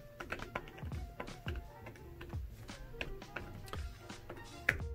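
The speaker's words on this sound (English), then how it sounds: "the keys on the Smart Keyboard Folio are basically meshed together" Typing on the Apple Smart Keyboard Folio, whose fabric-covered keys sit meshed together with no gaps, giving a quiet, steady run of soft close clicks with no voices.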